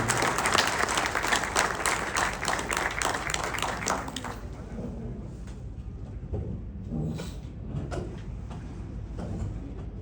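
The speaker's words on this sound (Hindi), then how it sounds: "और अब जोरदार तालियों के साथ माननीय श्री हरविंदर कल्याण जी का स्टेज पर स्वागत करें।" An audience at a Haryanvi community function in Australia breaks into loud applause to welcome a guest onto the stage; dense clapping for about four seconds, then thinning into scattered claps and crowd murmur.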